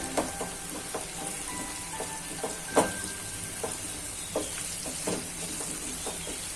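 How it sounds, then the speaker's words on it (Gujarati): Garlic-ginger paste is stirred into a sizzling pan for a bottle gourd curry, with a soft, steady frying hiss broken by repeated scraping stir strokes, heard fairly quietly and without talk. "લસણ આદુની પેસ્ટ આપણે નાખી દેવાની છે. આ રીતના બધું મિક્સ કરી દેશું આપણે."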